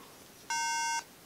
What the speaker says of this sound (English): one tone repeating every 5 seconds means there's no RAM installed